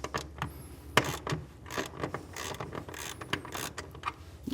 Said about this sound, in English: to do so we're going to need to loosen up this bolt. So we'll come back with that 1/2-inch socket,